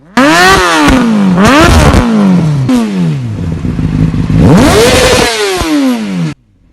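A loud motorcycle with a raspy, modified exhaust revs hard several times, pitch rising and falling sharply between bursts, close by.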